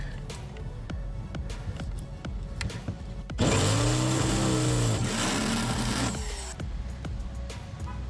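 A power drill whirs loudly for about three seconds while installing rock sliders on a Jeep LJ, its motor pitch rising then settling, between quieter stretches of handling noise and knocks.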